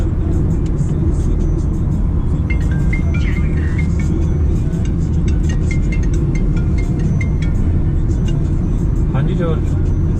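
A Kia Seltos GT 1.4 GDI turbo DCT cruises on an expressway, its steady loud low road and engine rumble constant inside the cabin, with someone talking over it.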